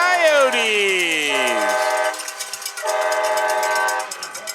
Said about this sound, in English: As the train whistle blows.